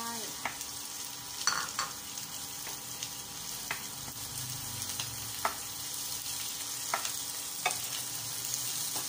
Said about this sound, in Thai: ก็ใส่คะน้าลงไป